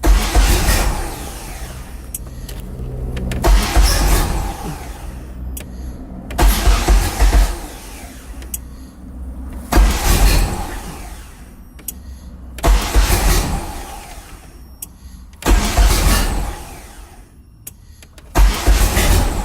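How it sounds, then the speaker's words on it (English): An engine in a first-generation DSM GST cranks in repeated bursts, each starter whir separated by brief pauses, close and loud, with no talking. "Sounds like we got a good crank."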